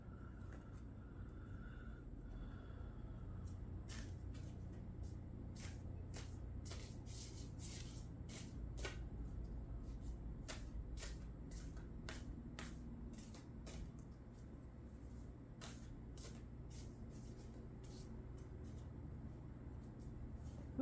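Oracle cards being shuffled, a run of quick crisp riffling snaps in close succession over a steady low room hum, with no talking.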